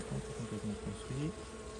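Honeybees buzz at an opened beehive in a continuous, close, droning hum with a slightly wavering pitch and no voices.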